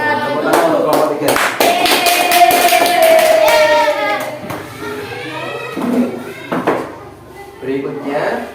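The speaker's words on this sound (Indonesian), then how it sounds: "Tepuk tangan untuk kelompok 3." Applause for a student group in a classroom teaching practice session, a dense burst of clapping lasting several seconds at close range, fading out with voices and scattered claps afterward.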